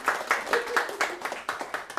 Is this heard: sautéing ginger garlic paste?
no